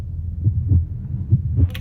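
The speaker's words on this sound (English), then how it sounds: "Ooh, I like the heartbeat." A heartbeat sound effect thumps in a steady, low double-beat rhythm, loud and close, with a brief higher swish at the very end.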